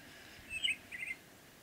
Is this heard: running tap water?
no